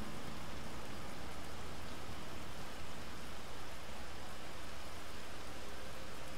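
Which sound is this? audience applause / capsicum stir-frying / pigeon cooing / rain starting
rain starting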